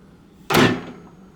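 A Samsung microwave door with a faulty latch that fails to press its switch shuts in one sharp, close thud, and the sound decays quickly into quiet.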